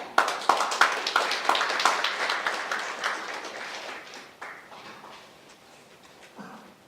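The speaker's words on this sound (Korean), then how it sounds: "박수로 환영해 주시기 바랍니다" Audience at an academic defence-industry symposium applauding to welcome a speaker, sharp claps building quickly into a dense round that gradually thins and fades over several seconds.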